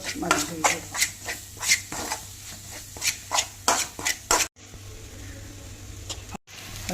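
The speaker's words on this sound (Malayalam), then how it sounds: "ചിക്കൻ മസാല നന്നായി ഒന്ന് വഴറ്റിയെടുക്കണം" Chicken masala being stirred and sautéed in a pan, with repeated scraping and clinking of a utensil against the metal in an uneven rhythm, close and moderately loud, over a steady low hum.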